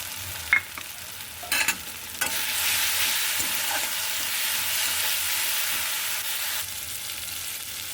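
Dry ground spices hit eggplant and vegetables frying in hot oil, giving a loud, steady hiss that swells and holds, with a few sharp clatters of stirring early on.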